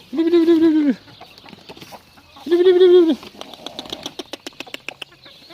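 Backyard chickens and roosters in a flock being fed let out two long, loud crowing calls, followed by a quick run of short clucks and wing-flapping pulses close by.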